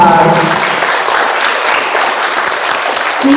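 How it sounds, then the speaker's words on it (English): Parents and families at a 2021 second grade school awards program give loud, continuous applause, a full and steady round of clapping that holds for the whole stretch. "So let's give them a huge round of applause."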